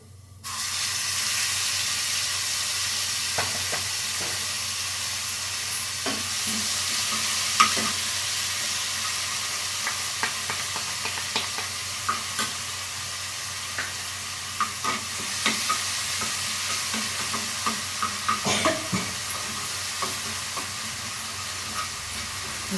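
A paste of green chili, cumin and ginger frying in hot oil, a steady loud sizzle throughout with occasional pops and stirring scrapes, no voices.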